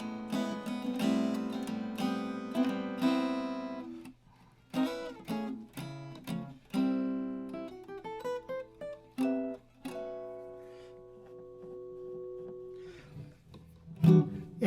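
Unamplified Eastman AR603-15 archtop guitar with an ebony fretboard, played as a flowing run of plucked single notes and ringing chords, close and clear, with no talking.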